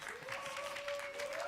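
Thin, subdued studio audience applause on a French TV dating show, a brief faint patter of clapping that sounds listless and sparse.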